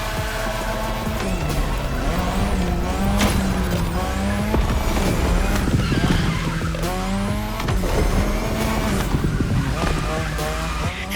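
Cars drift around a track in The Crew Motorfest's Made in Japan drift area, with steady, loud engine roar and sustained tire squeal throughout the whole stretch.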